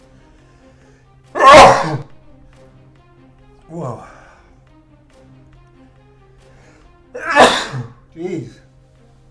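Two loud sneezes from a person eating very hot chili, spaced several seconds apart, each followed by a short breathy exclamation or gasp, close to the mic.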